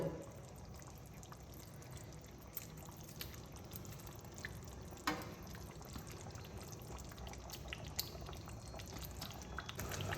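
Fried katla fish slid into a simmering yogurt gravy in a pan gives a faint, steady bubbling and soft liquid sloshing, with a few small splashes, low and continuous.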